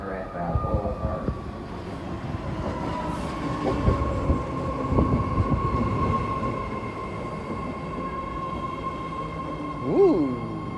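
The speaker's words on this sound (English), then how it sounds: "train now approaching platform 2" A BART Fleet of the Future train on San Francisco's Green Line pulls into the Balboa Park platform. It gives a steady rumble with a long tonal whine, some wheel clatter, a rising squeal near the end and faint voices.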